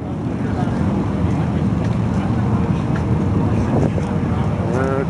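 Can-Am Spyder three-wheel motorcycles at a riders' gathering in Daytona give a steady, close low engine rumble mixed with wind buffeting on the microphone, and a voice briefly speaks near the end.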